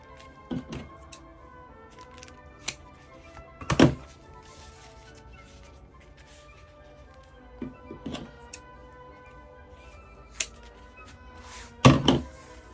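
Scissors snip through ribbon while a patriotic ribbon wreath is assembled, giving a few sharp, isolated cuts spaced seconds apart against a quiet room, with the loudest snips near the start and end.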